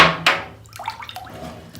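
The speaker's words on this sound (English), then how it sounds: "I just put my crystals in the water" Crystals dropped into water at a new moon ritual make a short splash and a few light drips and gurgles, a brief watery burst followed by soft scattered trickles, close and quiet with no talking.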